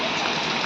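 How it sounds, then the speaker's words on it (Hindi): Heavy monsoon rain with big drops pouring off a roof in a hill village, a dense, loud, continuous hiss with no voices. "देखो भाई कितनी बड़ी बड़ी बूंदें पड़ रही हैं बारिश की"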